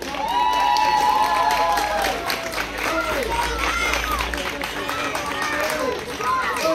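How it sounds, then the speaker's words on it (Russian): Stadium crowd applauding and cheering at an American football match in Ukraine's ULAF League 7, Zhytomyr Bisons against the Eagles, a steady broad wash of clapping and shouts with an announcer talking over it throughout. "Ваши аплодисменты"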